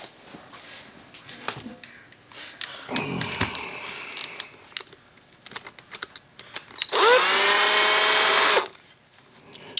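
A cordless drill whirs on an outboard carburetor from a Yamaha 9.9 four-stroke, with short bursts near the start and one loud steady run of about two seconds near the end, surrounded by clicks and handling noises.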